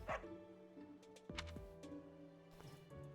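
In the video game Fire Emblem Three Houses, a dog gives a few quick yips and barks over soft background game music, clear and up close with no one talking.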